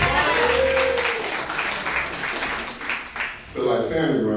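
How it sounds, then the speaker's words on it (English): Clapping from the crowd at an amateur-night comedy show at a venue, loud and close, ringing under the host's talking throughout and swelling again near the end. "y'all clap it up for the owners of this fine establishment"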